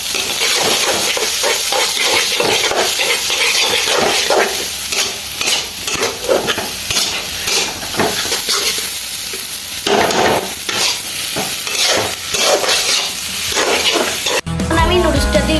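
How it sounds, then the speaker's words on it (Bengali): An egg is stirred and fried with noodles in a hot pan, giving a loud, steady sizzle with scraping stir strokes throughout that cuts off abruptly near the end. "এখন আমি ডিমটা দিয়ে দিব। ভালোভাবে নেড়ে ছেড়ে দিব।"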